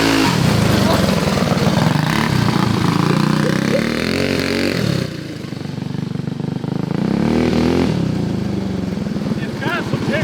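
A small go-kart engine on a Model T-style go-kart revs and drones loudly up close as it drives, its pitch rising and falling with throttle, and a voice speaking over it.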